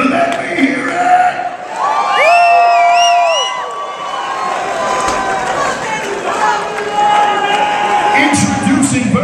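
A large arena crowd at a fight event roars and cheers, loud and continuous, with whoops and shouts rising over the din and music-like tones drifting through.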